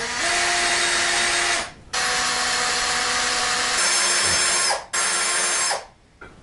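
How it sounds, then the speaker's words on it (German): A power drill bores two holes into a wooden bed frame being made narrower, running loud and close in sustained bursts with short pauses between them and a change of pitch midway. "Und da jetzt schnell zwei Löcher rein."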